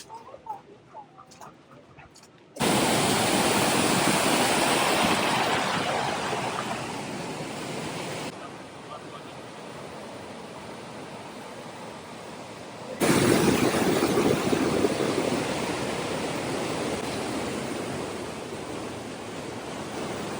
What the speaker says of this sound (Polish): Pod nami właśnie przepływa woda.